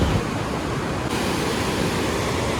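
The Bagmati river near Chobhar, swollen and clear after rain, rushes past in a dense, constant broadband roar of flowing water, close and steady throughout, with no voices.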